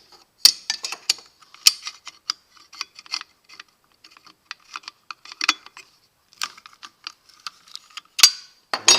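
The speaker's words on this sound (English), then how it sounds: "With that engage, I'm going to use my spanner wrench." Spanner wrench loosening the blade nut on a Porter Cable 18 volt plate joiner fitted with a metal cutting blade, giving close, irregular metallic clicks and ratcheting ticks in short bursts with pauses.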